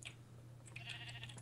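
A Minecraft sheep bleating in short, quavering calls over a steady low hum, fairly quiet and alone.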